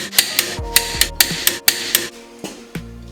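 A torque wrench tightens the wheel lug nuts on a Dodge Viper to 90 foot-pounds, giving a series of crisp, evenly spaced clicks and knocks up close, about ten in quick succession.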